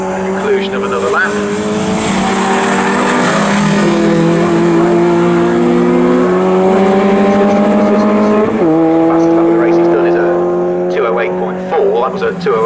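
A touring car in a Tin Tops series race at Snetterton roars past near the commentary position. Its engine tone climbs through gear changes as it goes by, and a commentator talks over the sustained, loud engine noise.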